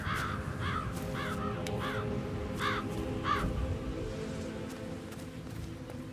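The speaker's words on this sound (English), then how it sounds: "I'll never get rid of those stupid birds." Crows cawing repeatedly in the stealth game Hitman 3, a run of harsh calls spaced through the scene over a steady low ambient rumble, with faint footsteps beneath.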